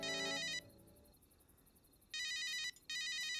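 A mobile phone rings in electronic bursts: one tone fades out, a pause follows, then two more loud ring bursts play close by with no speech.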